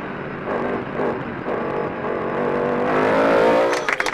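A Norma race car with a 4-litre engine on a mountain hill climb, its engine droning and rising steadily as it accelerates, growing louder toward the end before a few sharp crackles as it passes.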